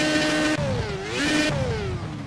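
Inside a car in the racing video game Project Cars, the engine note climbs steadily, drops briefly at each gear shift, and rises again, a thin continuous whine heard up close.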